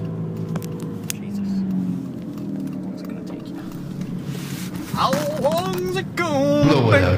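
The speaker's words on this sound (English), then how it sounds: "The freaking loud engine in the background is too much." A loud car engine drones steadily in the background throughout, a low continuous hum, with people talking over it and a voice toward the end.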